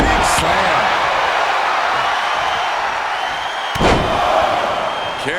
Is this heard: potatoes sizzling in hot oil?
no